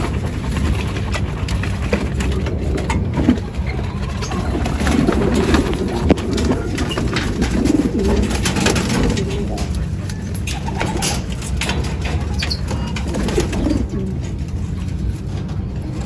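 Racing pigeons coo softly at a pigeon derby in Ilagan, Isabela, Philippines, over a busy, noisy background with scattered clicks and rustling throughout.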